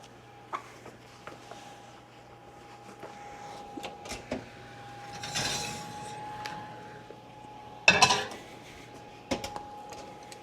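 A sourdough loaf is pulled from a hot baking pan, giving scattered metallic knocks and clinks, with one sharp clattering burst of pan contact partway through over a quiet steady hum.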